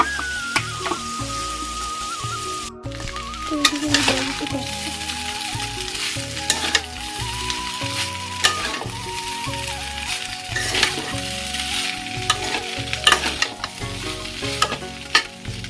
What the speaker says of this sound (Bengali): আলু পেঁয়াজগুলো একটু লাল লাল করে ভেজে নিচ্ছি